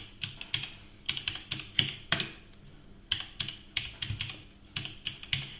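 Someone types a name on a computer keyboard, a quick run of close, crisp key clicks in short bursts with brief pauses, fairly quiet and without speech.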